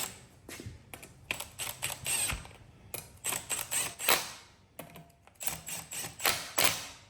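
Small 10 mm bolts are cranked tight on an aluminium engine block of a 168F Chinese single-cylinder diesel, giving bursts of quick close-up ratcheting clicks and metallic ticks in rhythmic runs with brief pauses, no talking.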